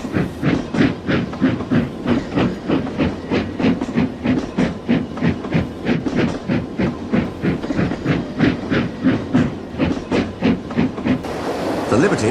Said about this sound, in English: The Limited rushed by with a growl and a roar.